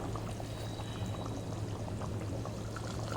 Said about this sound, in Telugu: హాట్ వాటర్ పోసుకోవాలి